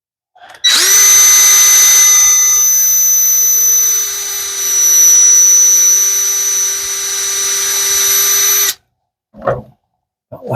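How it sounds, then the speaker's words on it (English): Power drill boring holes for a bird nesting feeder, a loud steady high whine running about eight seconds, then stopping, followed by a few brief clatters. "So I'm going to drill 2 holes."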